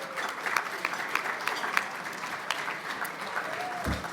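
Steady applause from a gala dinner audience, a dense wash of clapping holding at an even level throughout, with a few sharper claps standing out.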